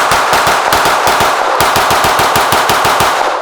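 Rapid handgun fire from a TTI Combat pistol, a fast mag-dump string of roughly twenty sharp, loud shots in quick rhythm with a brief pause partway, close and unbroken by talk.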